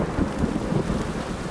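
A short stretch of stormy weather in The Witcher 3, a low thunder rumble blended with continuous rain hiss, steady and fairly loud with no voices.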